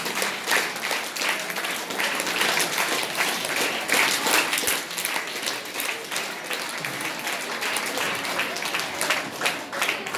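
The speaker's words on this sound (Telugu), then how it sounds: "కొట్టండి చప్పట్లు." An audience of students claps together in a hall, a continuous, slightly uneven burst of applause lasting about ten seconds with no voices rising above it.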